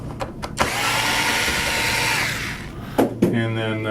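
A power screwdriver whirs close and loud for about two seconds as screws come out of a front motor platform, then slows to a stop, with brief clicks and a short final buzz of the tool.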